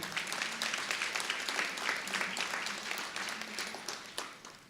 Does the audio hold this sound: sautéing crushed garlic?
no